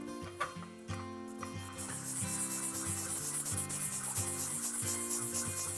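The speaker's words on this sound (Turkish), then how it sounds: "Şimdi 2000 numara zımparayla sulu zımpara yapacağım." Close, steady back-and-forth wet sanding of a die-cast model car body with 2000-grit sandpaper, a soft, hissing scrape settling into a continuous rhythm after a few quieter strokes at the start.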